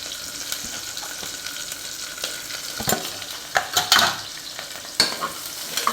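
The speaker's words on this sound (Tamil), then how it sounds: "நல்லா வதக்குறோம் ஃப்ரெண்ட்ஸ்." Onions sautéing with green chilli and bay leaf in a pan for chicken biryani, a steady soft sizzle broken by several sharp scraping stirs of a spoon, close and without talk.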